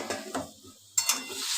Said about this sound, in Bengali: এবার আমি কড়াইটাকে ঢেকে দিচ্ছি